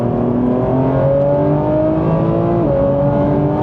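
Porsche 911 GT3 with a naturally aspirated engine revving hard, loud and close, its harmonic tones climbing steadily and dipping briefly before rising again, with no talk over it.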